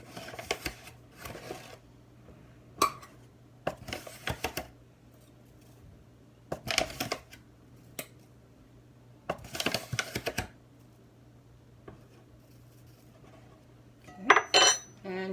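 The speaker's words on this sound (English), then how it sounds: "So what I'm going to do is the scoop and scrape method." Whole wheat flour scooped from a container with a measuring cup and scraped level, heard as a series of short, crisp scraping and tapping bursts separated by quiet pauses, fairly close.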